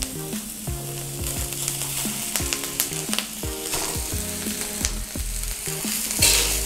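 Hakka noodles stir-frying over a full flame, a loud continuous sizzle with repeated clattering strokes of a spatula against the pan in an uneven rhythm, close by, with no talk.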